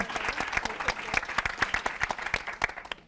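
Studio audience at a televised school quiz show applauds the teams, steady dense clapping for about three seconds, fairly close, with no talk over it.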